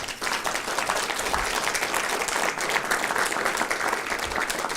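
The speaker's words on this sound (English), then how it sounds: "Let's give a round of applause." Event audience giving a steady round of applause, a continuous even wash of many hands clapping at once, fairly distant and moderately quiet, sustained without pause for the whole stretch.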